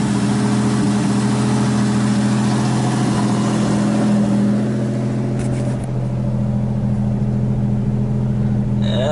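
Rebuilt engine of a 1986 Buick Grand National idles on first startup, a loud, steady low rumble with a constant hum, close up and continuous throughout, with a slight dip in level midway.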